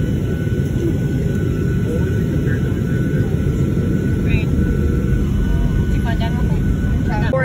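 Inside a fixed-wing airplane during landing, a loud steady low engine and cabin roar fills the stretch, with people's voices faintly over it.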